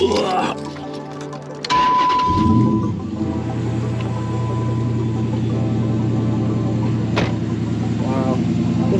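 A truck engine cranks over and catches right after an oil change, then settles into a steady, loud idle that runs on alone, with a brief voiced grunt near the start.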